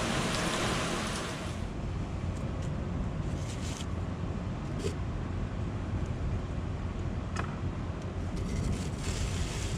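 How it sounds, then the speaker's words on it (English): Steady broadband rain falls outdoors near a Yamaha 90 outboard motor, a continuous hiss with a few brief brighter patters and no talk. "it starts raining"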